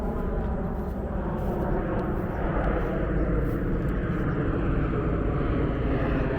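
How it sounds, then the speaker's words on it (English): Planes passing overhead near Midway Airport, beside busy 87th Street and Western, as a steady loud broadband roar and rumble with no breaks. "That's why you see so many planes going by."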